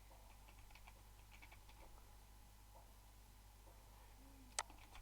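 Light, quick keystrokes on a computer keyboard while writing PHP and MySQL code, a faint irregular patter over a steady low hum, ending with one sharper click.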